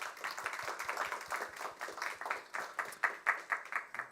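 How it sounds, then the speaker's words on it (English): Rhythmic applause from a small audience at the close of an evening talk program, with distinct individual claps audible, fairly quiet and steady, occasional sharper claps standing out. "Please join me in a round of applause for Buntzie Ellis Churchill."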